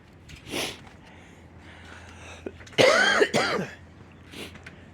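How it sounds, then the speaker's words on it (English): A person clears their throat and coughs a couple of times in a rough, close burst, outdoors in cold air, with soft breathing and faint sniffs around it. "All I do is cough. Cough, cough, and cough."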